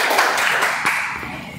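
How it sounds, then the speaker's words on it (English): Audience applause for a guest speaker at a club meeting, a steady wash of many hands clapping at moderate loudness and fading slightly toward the end. "Let's have a huge round of applause for our guest one"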